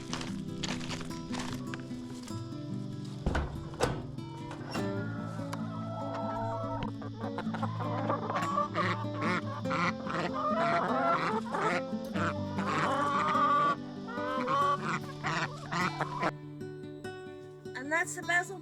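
Rescue hens clucking in a garden, several birds calling in uneven bursts throughout, fairly close and steady, with occasional human voices mixed in.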